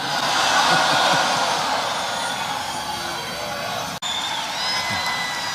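Large, enthusiastic political rally crowd roaring and cheering continuously at close range, a dense sustained wall of noise that briefly cuts out near the end.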